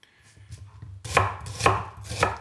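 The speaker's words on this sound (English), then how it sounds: "Chop them in half, and then we're gonna do bigger chunks." A knife chops an onion into chunks on a board: a few light taps, then three loud, evenly spaced chops, close and clear with no talking.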